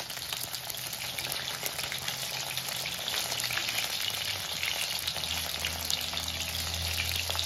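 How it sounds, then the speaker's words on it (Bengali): Katla fish fry in hot oil, a loud continuous sizzle and crackle close by with a bubbling, watery texture, steady from start to finish with no voices. "তো মাছগুলো ভাজা হয়ে গেছে, এবার আমি তুলে নেব"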